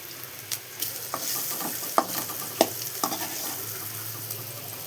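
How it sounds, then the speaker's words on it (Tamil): Mustard seeds, onion, garlic, curry leaves and urad dal fry in a pan with a steady close sizzle, broken by a few sharp stirring clatters and spatter pops. "இப்போ கடுகு வெங்காயம் பூண்டு கருவேப்பிலெல்லாம் உளுந்து எல்லாம் போட்டு வறுத்துருக்கேன்"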